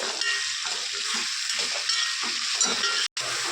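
Vegetable biryani with ginger, garlic and cumin paste is stirred in a pan, making a close hissing sizzle broken by rhythmic scraping strokes, with a brief dropout near the end and no talk.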